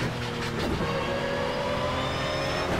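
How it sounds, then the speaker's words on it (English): A GT3 race car engine in the video game Project Cars at the Zolder circuit drones steadily, its pitch sliding gradually as it revs, loud and continuous with no voices. "It certainly sounds like a GT3 car should."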